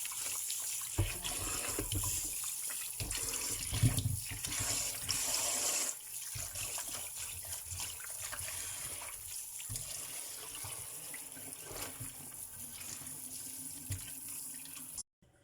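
Tap water runs steadily over large potatoes being washed in a sink, a continuous splashing rush with some clunks and shifts in flow throughout, no talking.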